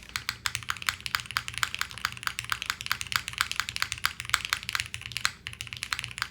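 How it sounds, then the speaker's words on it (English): Rapid steady typing on a Matrix MRTAXI top-mount mechanical keyboard with thick black silicone mounting, crisp close key clacks in a continuous rhythm, with a somewhat louder spacebar. "I do think the spacebar is a little loud"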